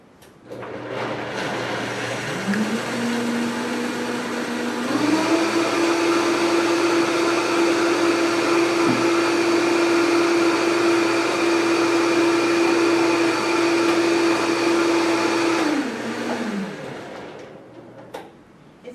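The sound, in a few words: blender running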